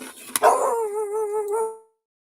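A single dog gives a sharp yelp, then a wavering, whining howl that rises and falls for over a second before fading out. The dog is close and alone.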